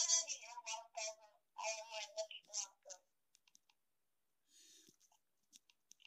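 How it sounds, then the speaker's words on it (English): Sparse, light clicks of typing on a computer keyboard during a Minecraft lucky-blocks race, a few scattered taps following an earlier stretch of voice, faint and close in otherwise quiet surroundings. "I have to keep on typing in his name."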